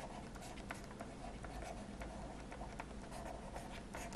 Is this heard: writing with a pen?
yes